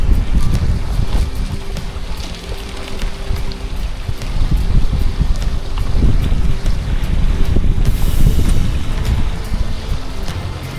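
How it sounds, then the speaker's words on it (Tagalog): Strong gusts of wind roar steadily across the microphone at a riverside campsite near Kalaparan Falls in Tanay, Rizal, a loud, dense rushing that swells and eases in waves with no talking. "May pabugso-bugso palang hangin sa lugar na ito"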